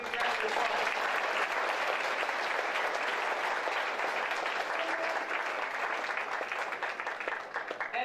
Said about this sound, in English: How about we give our servers a big round of applause?